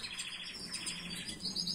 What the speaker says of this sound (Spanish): ¿cuándo canta el ruiseñor?